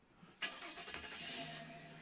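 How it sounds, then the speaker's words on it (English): A car engine cranks and starts, then settles into a low running hum as the car pulls out of a parking lot, with a sharp onset followed by a steady mid-level drone and no speech. "starts up the car and pulls out of the parking lot"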